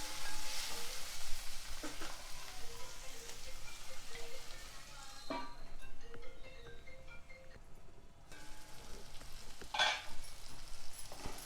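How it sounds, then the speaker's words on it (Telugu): Tomatoes with turmeric simmering under a lid in a pan for puffed-rice upma, a low steady sizzle with scattered light clinks and a brief lull, close and fairly quiet with no talking. "ఇదంతా చక్కగా కలిపి మూత పెట్టి టమాటా కొంచెం మగ్గనివ్వాలి"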